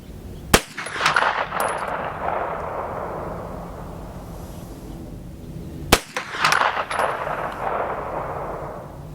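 Two sharp, loud gunshots from a Ruger PC Carbine fired at an outdoor range, spaced about five seconds apart, each followed by a long rolling echo that fades across the range.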